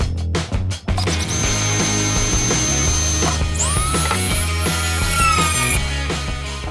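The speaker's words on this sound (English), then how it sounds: "this is exactly why I didn't want to drill a hole through the kayak" A power drill bores a hole through a kayak hull, starting after a few sharp knocks and then whirring steadily and loudly, its pitch rising as the bit spins up.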